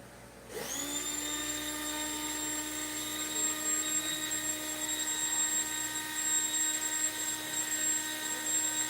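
A slot car motor, freshly oiled, spins up on a dyno with a sudden start and then holds a steady, piercing high-pitched whine close by for several seconds.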